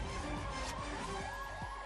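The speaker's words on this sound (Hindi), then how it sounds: "आप यहां पर भी वो तमाम सायरन सुन सकते हैं, गाड़ियों की आवाजाही सुन सकते हैं।" Police and emergency vehicle sirens wail during a night-time flag march by Bihar Police in Bihar Sharif, Nalanda district, with wavering tones over steady traffic noise throughout.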